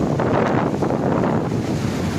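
Strong wind and crashing sea waves on an eroded beach by the Kulasekarapattinam Mutharamman temple, a loud, dense roar with wind buffeting the microphone and no voices.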